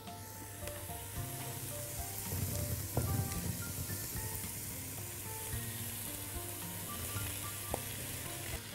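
Potatoes tipped into a pot of sautéing carrots, with a steady close sizzle and frying crackle throughout and a brief rise in clatter and hiss around the middle as they land and settle.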